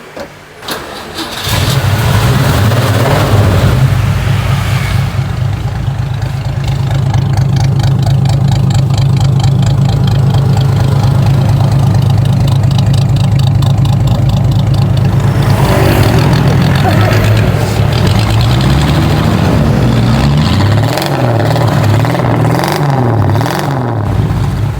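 An engine with a 173 inline motor cranks and catches, then settles into a steady mid-pitched idle with occasional light revs, fairly close and loud throughout.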